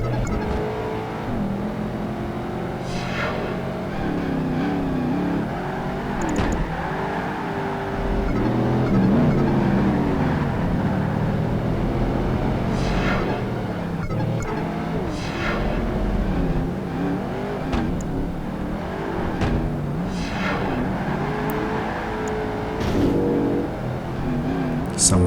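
Race car engines from the Project Gotham Racing 2 Xbox game drone continuously through a lap, rising and falling with gear changes and acceleration, as a Mustang follows close behind, while someone talks throughout.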